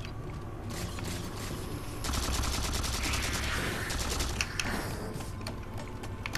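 Rapid bursts of battle rifle fire in the Halo 4 co-op campaign, loud and near. The repeated crackling shots run almost continuously over a dense, steady layer of game noise and mechanical clatter.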